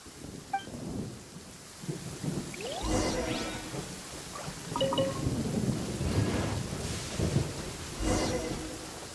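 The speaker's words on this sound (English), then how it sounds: "Uh-oh! Lightning storm!" A lightning storm in the game Genshin Impact brings steady rain with repeated rolling thunder and sharp crackling strikes, building over several seconds in a wide outdoor scene, no talking.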